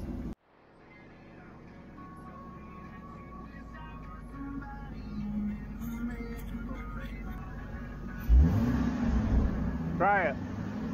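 A farm tractor with a bad battery, jump started; its engine rumbles low and steadily, building gradually before a louder surge near the end, with people talking over it.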